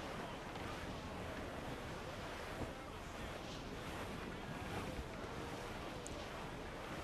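Wind and ocean waves rush continuously while a ship sails in the video game Assassin's Creed IV Black Flag, a dense, loud roar of surf and gusts with no voices.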